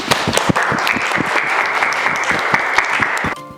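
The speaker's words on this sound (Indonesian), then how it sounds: "kita beri tepuk tangan dulu" Classroom students applaud a presenter, a lively burst of clapping with distinct sharp hand strikes over a sustained crowd wash, nearby and loud, cutting off abruptly near the end.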